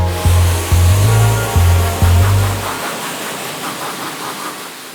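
Water sprays steadily over a car's exterior during a decontamination wash, a loud, close, continuous hiss, with a deep motor pulsing rhythmically underneath for the first few seconds before it cuts out.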